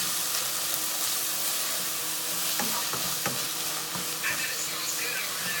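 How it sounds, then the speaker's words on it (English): Baked beans with brown sugar being stirred in a pot alongside frying bacon, a steady sizzle throughout with a few soft scraping strokes near the middle, close and fairly loud with no talk. "just give this a quick stir."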